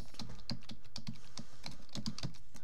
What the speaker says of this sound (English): So in your command prompt, just type bootstrap.bat.